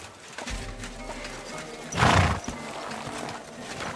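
A horse in Kingdom Come Deliverance 2 gives a brief loud neigh midway, with soft hoof clops and quiet game ambience before and after, all within a few seconds.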